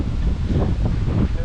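Steady outdoor wind from Tropical Storm Henri buffeting the microphone near moored boats, a broad low rumble with gusty swells throughout.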